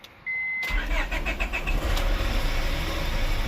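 A Honda Prelude's engine cranks and catches, then runs loudly and unevenly, with a rumbling, sputtering rough idle close by.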